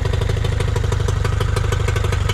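A Nissan/Tohatsu 18hp outboard motor idles steadily after carburetor cleaning and adjustment, its loud, close, even putter running through the whole stretch with no surging.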